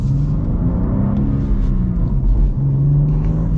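A manual 2024 BMW M2 engine hums and revs from inside the car while driving, a steady close low rumble with slight swells during rev-matched downshifts.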